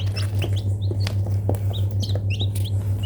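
High, thin chirps scattered over a steady low hum, with newly hatched Wyandotte chicks from an incubator peeping repeatedly at close range.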